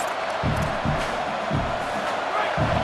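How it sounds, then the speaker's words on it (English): Stadium crowd noise from the EA Sports College Football video game on a third-down defensive play, a steady wall of roaring fans with rhythmic swells of chanting rising and falling, no talk over it. "Decibels rising as the crowd gets behind this defense on 3rd down."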